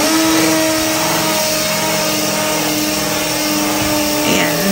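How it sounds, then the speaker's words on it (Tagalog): Power drill boring through wall tiles at a grout joint, a steady, loud, close whir with a grinding edge that holds for several seconds without talk. "So, mas madali po magbutas ng tiles."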